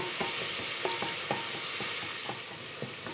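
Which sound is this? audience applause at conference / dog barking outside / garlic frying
garlic frying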